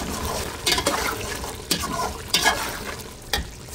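Washed polao rice stirred into spiced cooked meat in a pot, with a steady frying hiss and a few sharp scrapes and clatters of a spoon at intervals.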